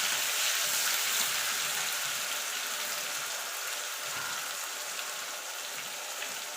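Onion paste sizzling steadily in hot spiced oil in a pan for chana masala, a continuous close crackling hiss with no talking over it.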